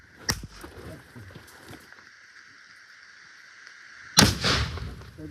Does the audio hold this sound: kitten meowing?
no